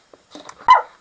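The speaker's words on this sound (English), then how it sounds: "My dog is barking again." A single sharp dog bark rings out close and loud after a few soft indoor rustles, ending with a short fading tail.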